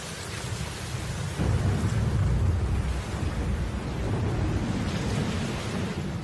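Heavy rain pours steadily over open prairie grassland while deep rolling thunder swells in partway through, a dense continuous roar with no voices present.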